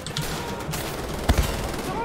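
Cannons firing in the video game Wolfenstein, a dense burst of gunfire-like blasts with one sharp, loud boom near the middle over constant background battle noise.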